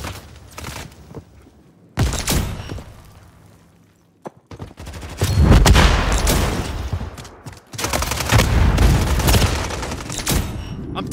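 Call of Duty Modern Warfare 3 multiplayer gunfire rattles in loud bursts of rapid automatic shots, broken by short silences, with heavy thuds among the volleys.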